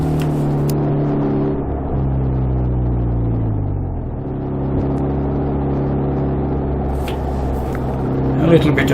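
A trike cruising on the M6 motorway at 60 mph, engine turning just under 2000 rpm, gives a steady low droning hum with a little wind rush, unbroken and close throughout.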